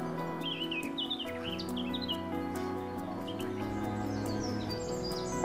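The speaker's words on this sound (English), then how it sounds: "The Chetty's warbler and the black cap try to mark their territory with singing competitions." Cetti's warbler and blackcap singing in spring at Rainham Marshes, bright warbling phrases and sharp chirps over a droning, tonal background hum, the birdsong moderately faint and intermittent.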